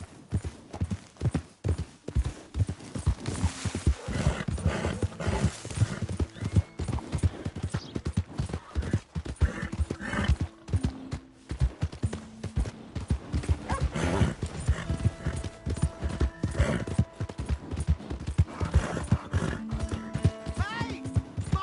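In a PS4 video game, a horse's hooves clip-clop in a fast, continuous galloping rhythm for a long stretch, broken by whinnying neighs, with faint game voices now and then.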